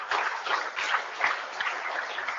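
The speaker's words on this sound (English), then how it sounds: "Please have a huge round of applause for the panelists," Audience applause at an innovation challenge outreach event in Nagpur honouring a panel, a steady, fairly distant wash of clapping with no voices.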